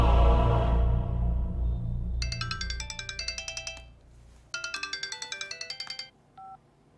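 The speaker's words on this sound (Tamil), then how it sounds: "அவனுக்கு போனை போடு. போடு. ஸ்பீக்கர்ல போடு." A phone ringtone plays over a speakerphone during a call, bursts of bright electronic melodic tones repeating in two clear sequences with a short gap, loud and close, then a brief blip at the end.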